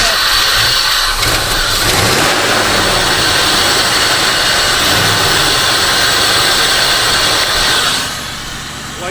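A Ford project truck's engine cranks and catches, then roars loudly and steadily at close range for several seconds before easing off slightly near the end.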